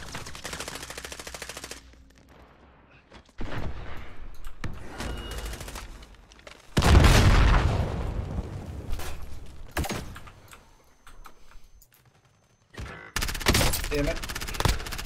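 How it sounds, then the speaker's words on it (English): Gunfire from a plunder-mode video game: bursts of rapid automatic shots and single cracks come in separated clusters, loud and close, with quiet gaps between and a player's voice at times. "I'm getting shot from behind."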